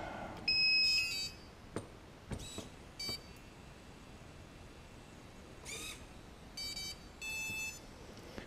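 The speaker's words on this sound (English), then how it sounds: "Heard the double beep and it let off, so it's now calibrated" A series of high electronic beeps and tone bursts from an RC tricopter's electronic speed controller during calibration, some in quick multi-tone runs and a double beep, over a quiet background.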